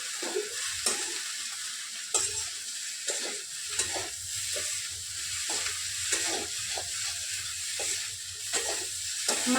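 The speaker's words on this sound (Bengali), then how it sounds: "এরপর আমি ভালো করে মশলাটাকে ভালো করে আমি কষিয়ে নেব।" Spice paste sizzles steadily in a hot pan as a spatula stirs it in regular scraping strokes, close by at moderate volume.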